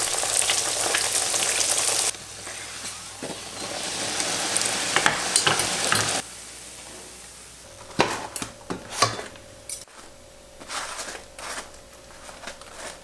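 Kefir flatbreads (lepeshki) fry in a pan, giving a loud, steady sizzle at first, then sizzling mixed with scraping and clattering of a utensil against the pan, with fainter frying toward the end.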